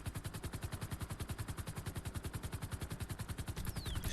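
Rapid automatic gunfire in a GTA roleplay police chase, loud and continuous with evenly spaced shots, roughly nine to ten per second, filling the whole stretch with no pauses.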